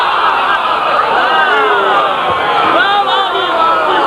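A crowd at a religious sermon gathering chants slogans in unison, a dense, loud wall of raised voices sustained throughout.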